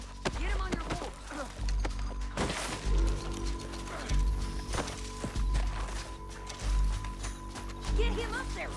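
Horse hooves clip-clop at a steady walking pace in Red Dead Redemption 2, a regular series of soft thuds running the whole way under voices and game ambience.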